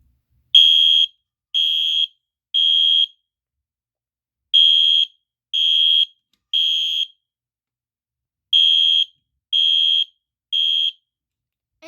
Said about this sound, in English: I will actually give a demonstration of the horn doing code 3 and continuous